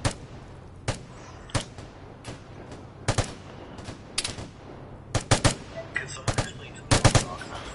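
Gunfire from a weapon in the video game Vigor, heard as a series of sharp, loud shots in short bursts with gaps between them, plus a few quieter pops in the background.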